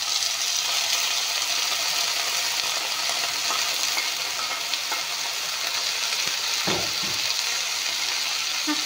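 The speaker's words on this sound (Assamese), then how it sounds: "শাকখিনি অলপমান ভাজি ল'ম" Radish leaves fry in hot refined oil, a loud, continuous hissing sizzle close by, with a couple of soft stirring knocks near the end.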